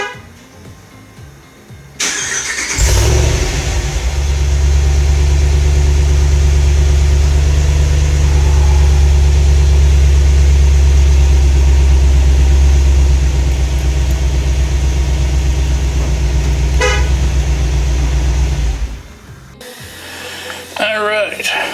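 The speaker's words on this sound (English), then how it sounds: "So here it is, the sound with the stock exhaust." A Ram Power Wagon with the 6.4 engine idles on its stock exhaust, starting up into a loud, steady low rumble that holds for about fifteen seconds before cutting off, with a short moment of talk near the start.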